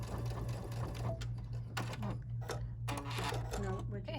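A sewing machine stitches a triple stitch along the edge of a coaster in bright orange thread, a close, steady whirring hum with quick needle clatter in short runs and brief pauses, with someone talking over it.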